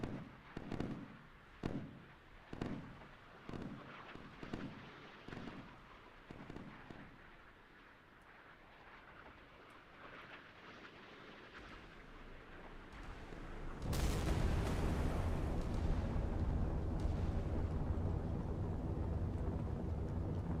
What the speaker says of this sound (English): Secondary explosions, he's toast.